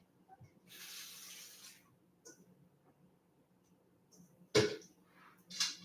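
Food is rinsed under a running kitchen tap to wash off ice, a soft steady hiss of water for about a second, then quieter handling clatter and a few short splashes.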